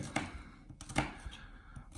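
A knife chops garlic cloves on a cutting board in a home kitchen. A few soft, irregular taps sound faintly over quiet room noise, with no talk.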